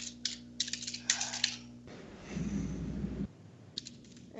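Typing a search on a computer keyboard, rapid clusters of key clicks in bursts at the start and end, with a steadier low rumble in the middle stretch; close and fairly quiet, no talking.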